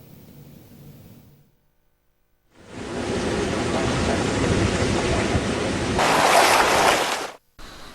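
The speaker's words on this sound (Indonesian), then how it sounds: "Cuaca buruk dan gelombang tinggi di perairan Laut Jawa" High waves in bad weather on the Java Sea roar in a dense, continuous surf wash after a brief quiet gap, swelling louder near the end before cutting off, with no voices.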